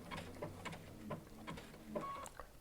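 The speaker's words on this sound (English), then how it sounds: "I'm just going to go right over here and sew another stitch." A Baby Lock sewing machine with a Teflon foot, set to single stitch mode, stitches leather or pleather applique in a series of short, quiet mechanical whirs and clicks spaced about half a second apart.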